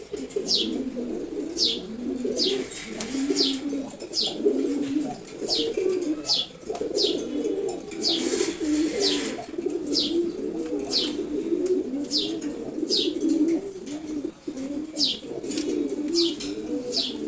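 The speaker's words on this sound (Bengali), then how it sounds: "খুবই অ্যাক্টিভ একটা নরকবুতর" A male Silver Gorra pigeon coos close by in a low, repeated rolling call, with sharp chirps from other birds recurring throughout.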